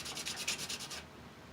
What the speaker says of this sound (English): we'll take our sandpaper here and we will just clean our terminal up a little bit